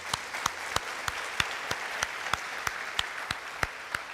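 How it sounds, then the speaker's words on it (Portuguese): A church congregation claps at a Sunday sermon, with a steady run of about a dozen sharp, evenly spaced claps, moderately distant and fairly soft over a faint room hiss. "Então dê um aplauso ao Senhor bem forte"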